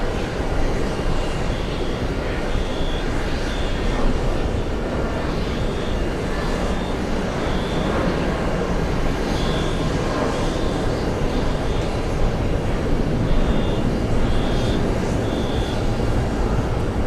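An American Airlines Boeing 777-200ER landing at JFK after an eight-and-a-half-hour flight: a steady, dense jet roar with a faint repeating high tone, heard from a distance with no talk.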